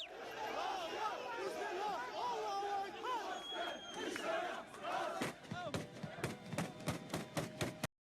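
Crowd shouting and chanting while confronting soldiers during the Turkish coup attempt, a dense mass of voices near and loud, breaking into sharp rhythmic shouts and thumps toward the end.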